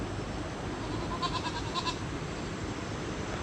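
A goat on a farm near a hillside bleats faintly a few times in the middle, under a steady background hiss of wind or outdoor noise.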